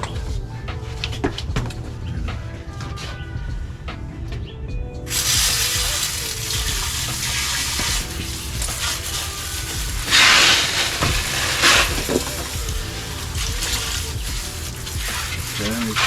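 A garden hose sprays water to clean the grids of a Pentair Quad DE pool filter. A steady hissing rush starts a few seconds in and runs on with brief louder bursts, close by, with some talking.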